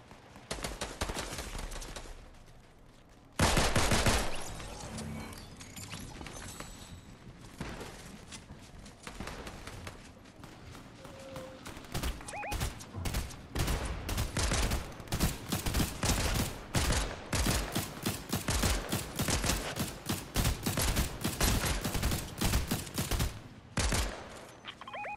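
Heavy gunfire in a squad-based shooter game, with rapid automatic bursts and single sharp shots. The firing goes on for about twenty-five seconds, loud and close, with brief pauses between volleys.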